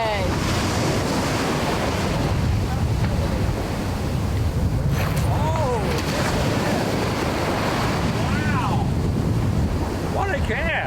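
Ocean surf breaking at the shore while fishing from the beach, a constant loud wash of waves with heavy wind buffeting the microphone and a few faint distant calls.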